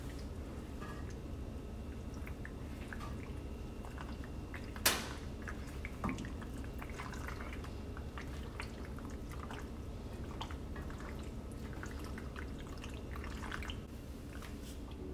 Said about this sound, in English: let's just enjoy the sounds of pasta being mixed up together